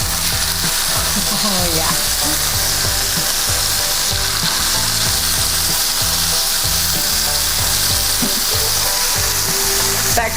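Chicken thighs fry skin-side down in a pan, making a loud, continuous close sizzle with stirring and scraping noises; someone briefly speaks over it.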